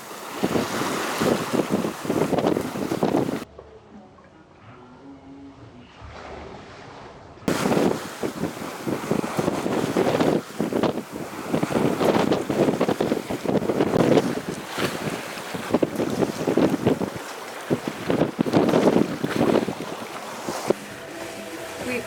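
A sailboat under way with cutter and jib set as the wind lightens, wind buffeting the microphone and water rushing along the hull continuously, with a brief quieter lull partway through.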